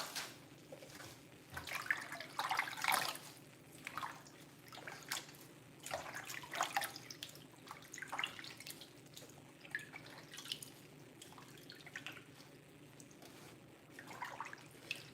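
Water from a kitchen sink tap splashes and drips while greens are rinsed and lifted out, a steady wet trickle with scattered splashy bursts, fairly quiet and close, with no talking.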